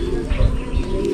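Pigeons coo in a short burst, a pair of low, soft throaty coos heard close up over a steady background hum.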